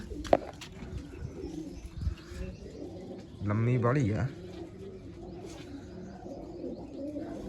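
Pigeons tied on an open rooftop loft coo close by, with one louder throaty coo bursting out midway among softer chirps while someone talks briefly nearby.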